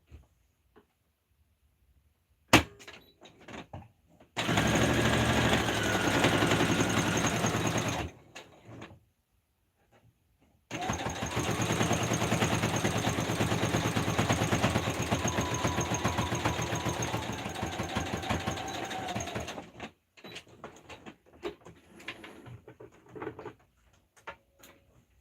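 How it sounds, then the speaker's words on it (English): A sewing machine runs in two long bursts while stitching a blanket for an animal shelter, with a rapid even rattle broken by pauses, short stops and a few clicks. "in this instance, I am sewing for cats and dogs"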